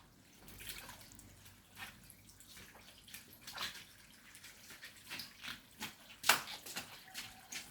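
Water trickles and splashes from a tap in a household bathroom, a soft continuous patter with scattered drips and a brief sharper splash, fairly close and low in level.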